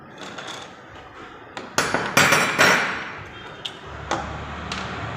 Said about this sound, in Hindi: इस वाले बोल्टों को भी खोल लेना है।